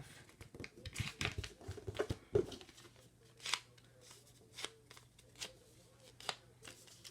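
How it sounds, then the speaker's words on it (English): Paper wallet being folded in half, giving soft crinkling and creasing rustles with a few sharper paper snaps, close and quiet with no talking. "the last step on this one is to just fold it in half"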